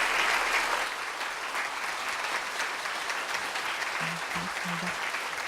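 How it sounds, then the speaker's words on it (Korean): Steady applause from an audience at a monthly morning assembly, following a children's choir performance, a dense wash of clapping that holds at an even level throughout, with a faint hum underneath. "박수"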